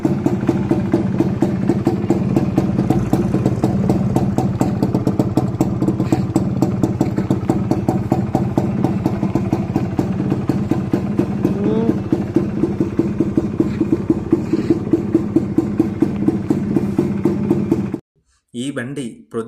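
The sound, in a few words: Suzuki Max100 motorcycle engine running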